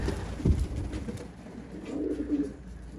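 Pigeons coo softly at moderate distance in snowy weather, with a few low murmuring calls over a steady outdoor background.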